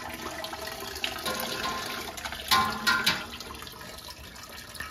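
Sweet wort trickles and splashes from a lifted brew-in-a-bag grain bag into a strainer while brewing an all-grain Vienna Citra SMaSH beer, a steady close watery pour with a few louder gushes midway.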